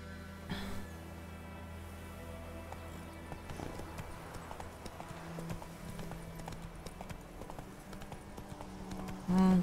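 Galloping horse hooves in the video game The Witcher 3: Wild Hunt clip-clop in a quick, steady rhythm under a sustained musical drone, ending with a short loud tone.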